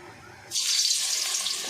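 A batter-sealed stuffed potol (pointed gourd) drops into hot oil and bursts into a sudden bright, hissing sizzle that holds steady and close, with no talking.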